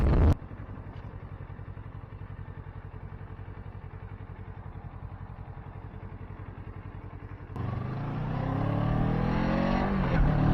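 Kawasaki Ninja 650 motorcycle with its stock exhaust idles in a steady, fairly quiet engine pulse, then revs rise and climb toward the end, close by with no talk.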